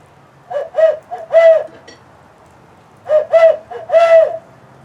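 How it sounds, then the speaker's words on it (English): A hunter's owl locator call gives two bursts of hooting notes in quick rhythmic groups, loud and close, with a short pause between the phrases. "there's owl calls, and this is something that hunters use to try to locate turkeys."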